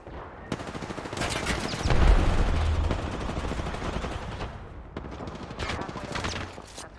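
A firing squad of several guns lets loose in a heavy, continuous fusillade, loud and close, swelling to a booming peak, briefly easing, then firing again in rapid bursts.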